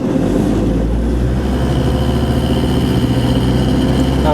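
Land Rover Discovery TD5 diesel engine running at around 2000 RPM under light acceleration, a loud steady low rumble with throbbing harmonics, heard close and alone.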